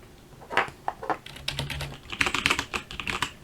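Bursts of close mechanical key clicks on a Mountain Everest Max keyboard, scattered keystrokes at first, then quicker, louder runs of typing, with no one speaking.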